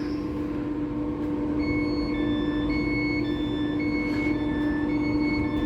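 A train rolls in with a steady, continuous rumble and a high, sustained mechanical whine layered on top, fairly loud and unbroken throughout.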